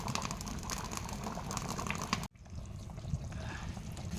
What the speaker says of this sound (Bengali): দেখো চিকেনের ঝোল এই যে ফুটছে